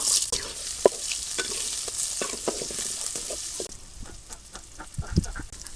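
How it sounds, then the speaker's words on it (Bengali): Chopped onion frying in oil in a wok makes a steady close sizzle, broken by repeated clicks and scrapes of a utensil stirring against the pan. "কড়াইতে তেল দিয়ে দিলাম পেঁয়াজ কুচি দিয়ে দিলাম"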